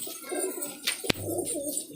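Pigeons coo softly nearby at a pigeon tournament, low throaty calls repeating, with a sharp click or tap briefly cutting through midway.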